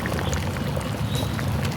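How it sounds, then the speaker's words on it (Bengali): Water pours steadily into a pot of meat khichuri, a dense, continuous rushing wash that stays close and fairly loud for the whole short stretch, with no talk over it. "তারপর পানি দিয়ে দেওয়া লাগবে"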